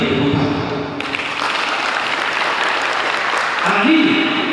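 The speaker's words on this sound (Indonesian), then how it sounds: "Berikan tepuk tangan." Audience applause at a family Christmas celebration, a steady wash of clapping that fills the whole stretch, with voices talking over it near the start and again toward the end.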